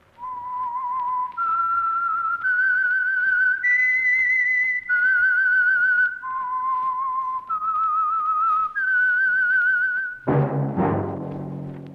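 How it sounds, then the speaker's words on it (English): A clear, loud whistled melody of sustained notes stepping up and down, the theme of the radio program The Whistler, ending with a brief burst of music. "That whistle is your signal for the Signal Oil Program"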